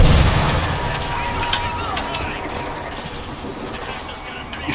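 A loud, rumbling explosion in the zombie shooter World War Z, set in Moscow, with a heavy low boom at the start that decays into a long rumble.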